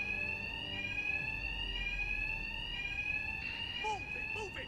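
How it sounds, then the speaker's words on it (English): A steady electronic alarm in the Batman Arkham Knight video game sounds continuously as a high shrill tone, with brief game sounds chirping near the end. "My attacks will be covered by the noise of the alarm."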